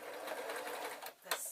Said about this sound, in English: I'm going to sew along that side so that I can move on to that part of the